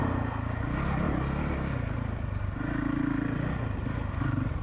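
A Honda CRF450L motorcycle being ridden, its engine droning steadily with a slight rise in revs, close and continuous with wind noise and no talk.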